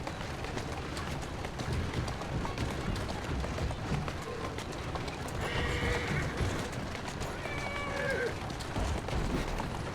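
A horse whinnies a couple of times over a dense, steady bed of ambient noise and hoofbeats, with a busy soundscape throughout, in the game Assassin's Creed Syndicate.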